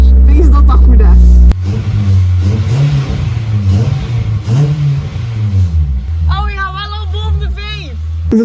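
A Honda S2000 with the F20C VTEC engine idles and then revs, its tone rising and falling in surges, while people talk nearby throughout.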